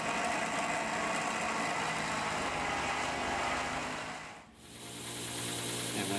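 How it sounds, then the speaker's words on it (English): A soft buffing wheel spins steadily against a handmade knife blade, giving a continuous motor whir with a faint dip near the end before the hum resumes. "So I'm going to buff the scales and go ahead and buff the blade before"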